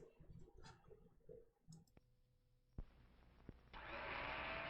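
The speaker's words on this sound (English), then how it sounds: "It's a General Electric blender that's going around." A General Electric blender switches on with a sharp click and then whirs steadily, its motor noise growing louder and fuller toward the end after a few clicks and scattered clatter.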